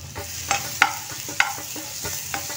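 Chilies sauté for an okra dish, sizzling steadily in a pan while a spoon stirs and scrapes in several sharp, close strokes, with no talking.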